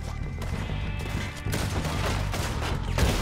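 Rifle gunfire from Red Dead Redemption II: a dense run of loud, sharp shots with heavy low rumble, fired in quick succession across the whole stretch, with a stronger burst near the end.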